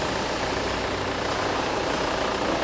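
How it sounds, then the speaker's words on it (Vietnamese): A 2017 Kia Sorento diesel with 27,000 km idles with a steady, even rumble heard up close, a constant dense drone with no voices over it. "Mai đang để máy nổ luôn các anh chị, để máy nổ luôn cho các anh chị nghe tiếng máy xe nha."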